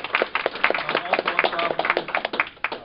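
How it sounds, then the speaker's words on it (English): A convention audience gives a round of applause, a steady patter of many hands clapping at moderate level with no voices over it. "So they deserve their own special round of applause."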